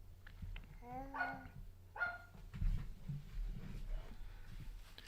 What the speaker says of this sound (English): Dogs are barking.